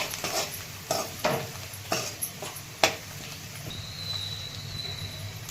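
Sprouted horse gram (hulga) being sautéed in oil in a pan, with scraping stirs and soft sizzling at close range, a few distinct spoon strokes standing out over a steady low fry.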